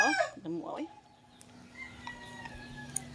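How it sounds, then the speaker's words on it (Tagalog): A fighting cock crows and clucks briefly up close, followed by quieter ambient sounds with faint distant bird calls. "Yung mga manukan, oh, panabong"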